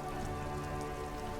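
Rain falling in the Disco Elysium game, a faint steady patter of drops on surfaces with soft tonal game ambience underneath.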